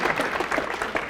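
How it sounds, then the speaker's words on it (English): Brief burst of audience applause at a hypnosis conference keynote, a dense patter of many hands clapping at moderate level. "So give Richard Clark a round of applause"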